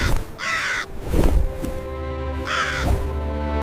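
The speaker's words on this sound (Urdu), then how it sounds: "دور سے پرندوں کے غول آتے دکھائی دیے۔" A flock of crows caws in repeated harsh, rasping calls, two loud bursts about two seconds apart with fainter cawing and background noise between them.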